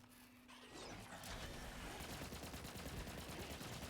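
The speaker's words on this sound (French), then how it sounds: "Et on va jouer le pistolet." Rapid pistol gunfire in a video game, a dense crackling burst of shots that starts after a brief quiet moment and continues loudly to the end.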